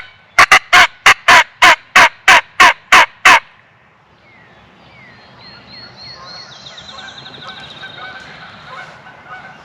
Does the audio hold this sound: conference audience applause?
no